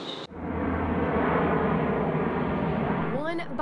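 Steady loud roar of an airplane engine at the Fort Benning Airborne School, a continuous drone filling the clip after an abrupt start, with a brief tonal sweep near the end.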